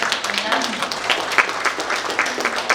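An audience claps for a former Korean defense minister at a national security lecture, a crisp patter of many hands running steadily beneath a man's ongoing speech.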